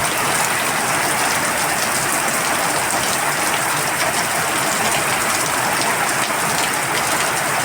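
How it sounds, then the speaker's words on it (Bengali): Heavy nighttime rain with big drops falling steadily and loudly, a dense unbroken roar of drops on surfaces close by, with no voices. "হঠাৎ করে বৃষ্টিটা নেমে গেল, মেঘ ডাকছিল যদিও।"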